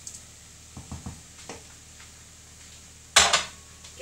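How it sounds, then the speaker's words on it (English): Rice stirred in a pan for a Slimming World risotto, a few soft scrapes and taps of a spoon followed by one louder clatter against the pan, otherwise quiet. "Give it a stir."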